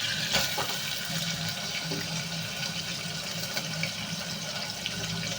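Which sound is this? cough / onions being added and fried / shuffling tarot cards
onions being added and fried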